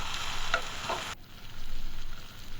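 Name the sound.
chicken being stirred and fried with onions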